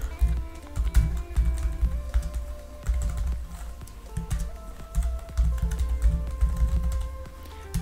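A password is typed on a computer keyboard in bursts of quick, close key clicks with brief pauses between runs, and no speech over them.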